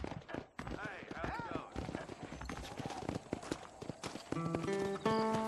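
A horse trots and gallops with rhythmic clip-clop hoofbeats in Red Dead Redemption, heard under talking voices with music swelling near the end.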